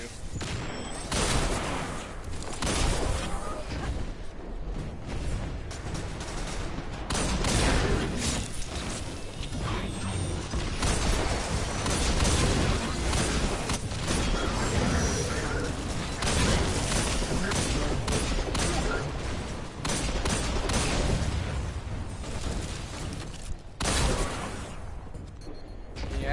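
Luna's Howl hand cannon firing in Destiny, rapid dense volleys of sharp shots layered with game effects and mechanical clatter, loud and nearly continuous for the whole stretch with brief lulls.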